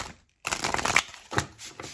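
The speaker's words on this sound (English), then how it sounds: "So let's talk about it. Why do we have awakening here?" Grail Tarot cards being shuffled by hand, a short silence followed by a dense run of papery riffling and flicking, then another brief burst and softer rustles, close and fairly quiet with no talking.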